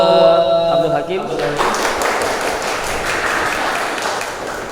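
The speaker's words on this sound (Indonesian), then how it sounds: "silakan tepuk tangan untuk Abdul Hakim" Audience applause for a presenter at a broadcasting and film teacher-training session in Makassar: a short spoken introduction gives way to sustained, even clapping from a crowd.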